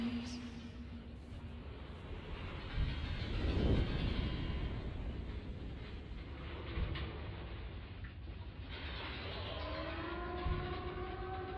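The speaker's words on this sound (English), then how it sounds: "I love the sirens of Silent Hill." Eerie air-raid siren from the video game Silent Hill 2, a wailing tone that rises in pitch late in the clip over a dense, rumbling ambient drone with no speech.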